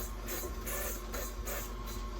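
A stand mixer kneads bagel dough in a home kitchen, giving a steady, continuous mechanical whir with a faint rhythmic pulse, close and alone without talk.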